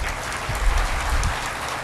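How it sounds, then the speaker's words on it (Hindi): Crowd applause from a live audience at a motivational Sunday talk in Panipat, a dense steady clatter of clapping hands lasting about two seconds, fairly loud and continuous with no voices over it. "अपने लिए जोरदार ताली बजाइए"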